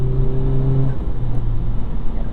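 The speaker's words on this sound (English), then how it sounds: "you also get piped in exhaust noise, right, with the R mode?" Engine and exhaust drone of a 2021 Honda Civic Type R Limited Edition in R mode on a downshift from sixth to fifth, a steady low rumble that drops in pitch partway through, close and loud with no talking.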